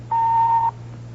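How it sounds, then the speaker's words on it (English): A single steady answering machine beep, loud and clean, holds for about half a second over a low mains hum, then cuts off, leaving the hum on its own. "Now, just wait for that beep,"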